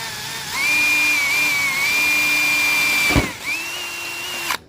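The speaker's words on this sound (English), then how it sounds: "drill right on them dots" A power drill whirs in two steady bursts drilling holes in a truck cab for clearance lights, a high motor whine that dips briefly between them before stopping with a click.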